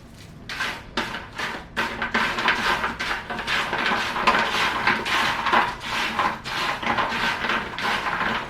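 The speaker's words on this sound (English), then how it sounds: "That's a crispy fry." Freshly fried, crispy potato fries crunch and rustle in a rapid series of dry, crackly bursts, close and fairly clear, with no talk.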